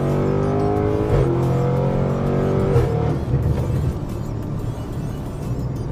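A boosted V8 engine in an Audi RS7 with downpipes rumbles loudly up close, revving with a deep throaty drone that roughens and settles toward the end.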